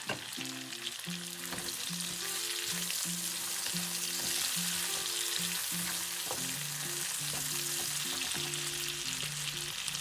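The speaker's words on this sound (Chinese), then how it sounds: "再加入香菇进行翻炒" Shiitake mushrooms stir-fried in a wok for a spicy Szechuan dish, a bright steady frying hiss running beneath a prominent tonal musical backing, no speech.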